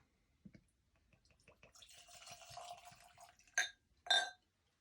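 A drink poured from a bottle into a glass, a soft glugging and splashing run lasting about two seconds, followed by two short louder clinks or gulps, close and fairly quiet.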